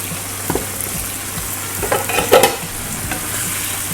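A utensil stirs pork menudo in a hot pan, with soft scraping strokes over a steady sizzle and a louder clatter near the middle.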